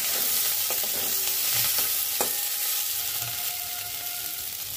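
Spiced spring onions and cauliflower frying in a pan, a dense, even sizzle close up with a few soft stirring knocks, no talking.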